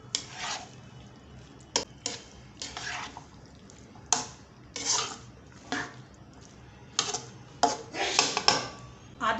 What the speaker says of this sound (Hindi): सब चीज़ों को डालकर मिक्स करेंगे।